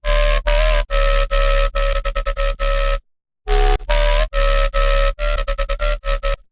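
A loud electronic synth lead from the Serum synthesizer plays rhythmic stabs, some long, some in quick bursts, with a brief silent gap midway before the pattern resumes.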